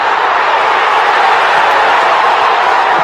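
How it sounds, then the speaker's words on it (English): A stadium crowd at a baseball game roars and cheers in a dense, continuous wash of noise that holds steady and loud for the whole stretch, with no single voice standing out. "Wow, the crowd."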